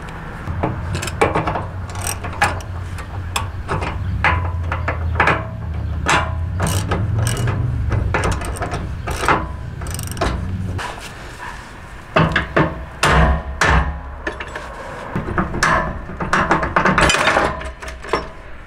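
Big bolts are worked out of the leaf springs on a Tracker PG 165WT boat trailer, with a loud close ratchet clicking in rapid bursts, metallic knocks and grinding rubs throughout.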